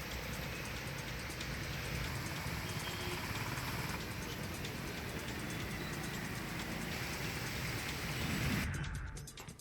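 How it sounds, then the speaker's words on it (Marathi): Heavy monsoon rain pours steadily in Dapoli, Ratnagiri, a dense, loud, unbroken hiss that swells slightly near the end before easing. "दापोलीमध्ये पावसाचा धुमाकूळ हा सातत्यानं सुरू असल्याचं आपल्याला पाहायला मिळतं"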